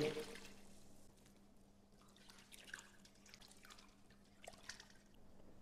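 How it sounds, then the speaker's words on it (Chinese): Clean water running and dripping over fish pieces being rinsed in a kitchen, a quiet, faint trickle with scattered drips and splashes throughout. "用清水再次给它冲洗一遍"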